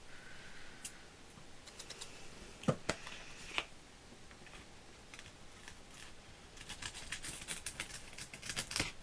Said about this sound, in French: c'est mes ciseaux qui coupent plus beaucoup parce que avec le double face ça se colle de partout